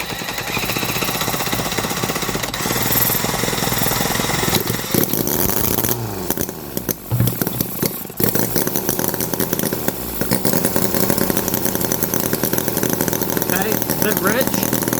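A Microcosm H75 model engine fires up with the throttle cracked open and runs steadily, a loud, buzzy, rattling drone that dips briefly in the middle before settling back, with voices talking over it.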